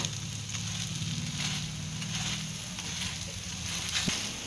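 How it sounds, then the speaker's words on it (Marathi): Methi thalipeeth fries in oil on a hot pan toward crispness, giving a steady, close sizzle and crackle with slight swells in intensity and no voices. "एकदम खरपूस असं भाजून घ्यायचं आपल्याला क्रिस्पी होईस्तोवर"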